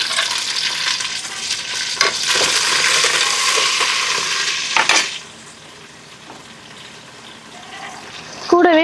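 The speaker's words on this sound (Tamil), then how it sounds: "நம்ம எடுத்து வச்ச இந்த புதினா கொத்தமல்லி போட்டுக்கலாம்" Onions sizzle and are stirred in a hot pan with mint and coriander for chicken biryani, a loud steady frying hiss for about five seconds that then drops to a quieter simmer, ending with a brief clatter.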